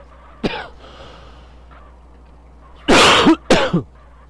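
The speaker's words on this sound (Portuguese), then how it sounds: "Eita, tosse." A short burst near the start, then two loud, harsh coughs in quick succession, close to the microphone over a low steady hum.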